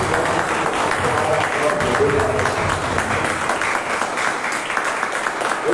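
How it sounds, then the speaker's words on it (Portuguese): A congregation applauding in church during a worship service, a thick continuous wash of many people clapping, loud and sustained, with voices mixed in underneath. "vamos dar aquela linda salva de palmas para Deus"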